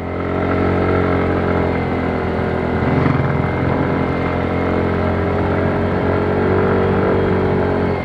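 Small motorcycle engine labouring steadily up a long, steep uphill road, a continuous close and loud drone with strong harmonics and little variation, no voices heard.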